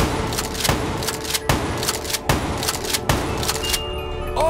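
Shotgun blasts in the video game Ascension, a series of heavy, evenly spaced booming shots, about five in a row, fairly loud with a faint tone near the end.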